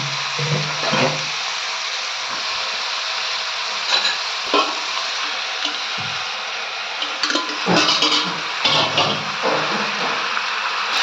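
Marinated chicken with a splash of water being stirred in a pan for chicken posto, with scraping spoon strokes, wet bubbling and a sizzle beneath, close and loud, without talking.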